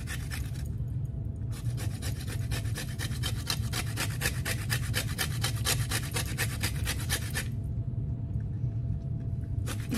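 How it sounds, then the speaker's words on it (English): Lemon zest grated over a bowl of popcorn, a steady rhythmic rasping and scraping of peel against a grater, close and continuous with brief pauses at the start and end, over a low background hum. "you're gonna take some lemon zest and just kind of grate it over top"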